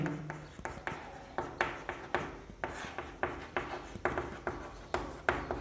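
Chalk or marker strokes scratching across a board while a right-angled triangle is worked out in a Class 10 circle geometry lesson, short rubbing bursts repeating in an uneven rhythm, close and clear with no talk.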